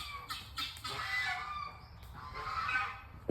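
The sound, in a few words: geese honking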